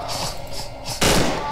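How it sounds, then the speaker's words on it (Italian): Gunfire in the horror game Cry of Fear: a steady dense crackle of shots that swells into a louder, fuller burst partway through, close and continuous with no voices. "Inizia a sparare. Vai, spara, spara."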